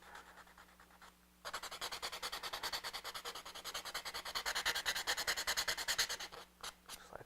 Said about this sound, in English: Then I'm just going to sand it over